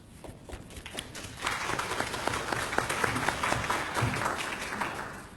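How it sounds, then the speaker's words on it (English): Audience at a Western NSW health forum in Dubbo breaking into applause, a dense wash of clapping that swells and holds steady, close and fairly loud. "I feel that we need to applaud that."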